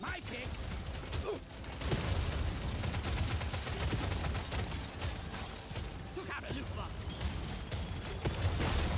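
Smart rifle firing in Deep Rock Galactic Survivor, steady dense stream of shots and mechanical clatter under a continuous game soundscape, with talking over it.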